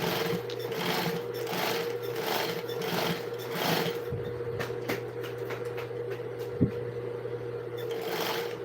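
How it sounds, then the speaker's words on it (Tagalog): Sewing machine stitching a doormat, running steadily in a rapid, even mechanical whir with soft periodic thumps and one sharp clack, moderately quiet and close, with no talk. "Talagang doormat lang ang tinatahi namin."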